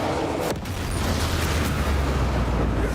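A Bombarda spell explosion in Hogwarts Legacy, a loud, sustained roaring blast with a deep low rumble that fills the whole stretch, with no talk.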